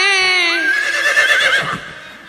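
A loud, drawn-out horse whinny rises with a wavering pitch and fades away, close and unaccompanied, in a sung retelling of the ashwamedha horse story.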